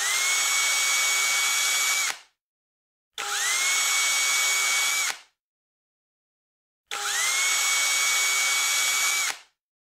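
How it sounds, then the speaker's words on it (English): A power drill fitted with a 9/64-inch bit bores pilot holes into a fish finder mounting plate in three steady, whining bursts of about two seconds each, separated by short silences. "Use a 9/64-inch drill bit and drill 3 pilot holes."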